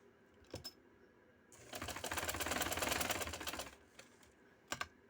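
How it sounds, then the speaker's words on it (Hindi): A sewing machine runs a burst of rapid stitching along a neck design on a garment, a close mechanical rattle lasting about two seconds, framed by brief clicks and handling taps before and after. "अब इसके ऊपर सिलाई लगानी है।"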